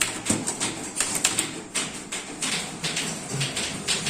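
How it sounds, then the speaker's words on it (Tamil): Fingers type on a keyboard in irregular bursts of light clicking keystrokes, steady and close, with brief pauses between runs of keys. "நம்ம கண்டென்ட்டை டைப் பண்ணலாம்"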